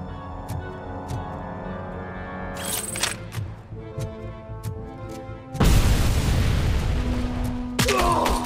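Grenades go off in Robocop: Rogue City as a heavy, loud blast that sustains a roaring rumble, with another burst near the end, amid scattered gunfire and game tones.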